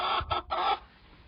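A hen sitting in a nesting box gives a short run of nearby clucks, three quick buzzy bursts, then quiet.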